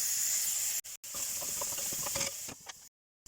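Onions and vegetables seasoned with sea salt cook in a lidded pan, giving a steady close hiss and sizzle with a few brief dropouts.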